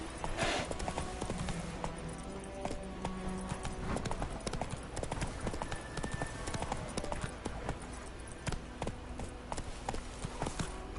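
Roach, Geralt's horse in The Witcher 3, gallops in the game with rapid, rhythmic hoofbeats clip-clopping steadily and close, joined by brief game sound effects and a faint neigh.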